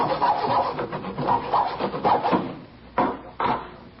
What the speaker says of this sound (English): he was sawing on a piece of plywood with a hacksaw